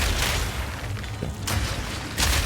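Grenades and mortar-cannon shots exploding in the video game Path of Exile 2, a dense run of booming blasts with sharp bursts at the start, middle and end over a continuous rumble.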